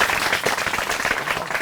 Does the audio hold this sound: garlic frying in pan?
no